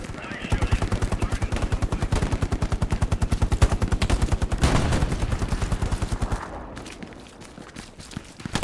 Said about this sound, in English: It sounds like an MP40 in this building.